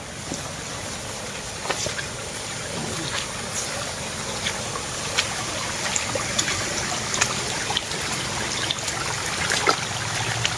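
Water trickling at a farm lot site during an outdoor visit, a steady faint running-water wash with light scattered ticks and clicks, fairly distant and continuous, no voices over it.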